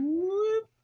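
A cat gives one short, clear, rising meow, close and alone, lasting under a second.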